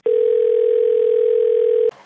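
Steady telephone dial tone heard while placing a call, a single continuous loud tone holding for almost two seconds before cutting off abruptly into faint noise.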